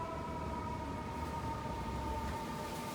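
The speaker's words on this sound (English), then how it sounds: "And then you hear the ambulance, right?" An ambulance siren sounds outside, a faint steady wailing tone held at a distance over a low rumbling background for the full few seconds, with no talking.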